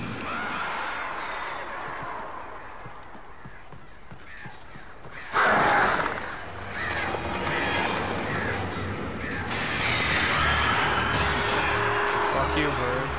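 Crows caw repeatedly in the video game Alan Wake, scattered calls over a rumbling game background, with a loud slam-like burst midway and a player talking at times.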